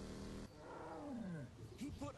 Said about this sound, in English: He put a tiger in my car!